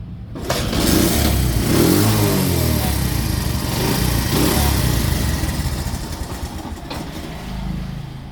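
A used motorcycle at a Bangladeshi second-hand bike seller starts up abruptly and keeps running loud and close, its engine roaring and swelling with revs for several seconds before easing slightly near the end.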